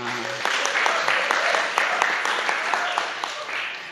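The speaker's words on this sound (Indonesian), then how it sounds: "Tepuk tangan untuk Shinji." A youth church service congregation gives a short burst of applause for a young member, steady clapping at moderate distance with voices mixed in.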